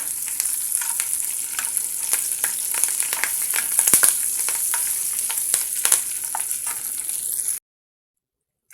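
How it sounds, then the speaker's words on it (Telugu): Curry leaves crackle and sizzle in a pan with fried chillies, a busy, even frying hiss broken by sharp pops and a few stirring clatters before it cuts off abruptly. "ఇందులోనే కరింపాకు కూడా వేసేసుకోండి దీన్ని కూడా ఒక రెండు నిమిషాలు అలా ఫ్రై చేసుకోండి"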